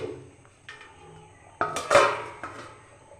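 A metal lid clanks down onto a pot of rice cooking on low heat, with a few soft knocks leading up to a sharp, ringing clatter near the middle and quieter taps afterward.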